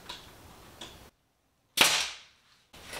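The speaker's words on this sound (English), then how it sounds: "I'm going to shoot a nail straight through here into both miters" A nail gun fires into wainscoting miters with one sharp, close pneumatic bang that decays quickly, set against faint workshop background.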